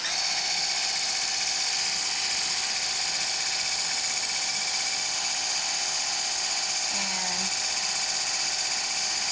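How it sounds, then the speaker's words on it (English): A hand mixer whirs steadily as it beats egg whites in a bowl, a loud, continuous high-pitched drone that holds unbroken from start to finish. "we're going to use our hand mixer to beat them."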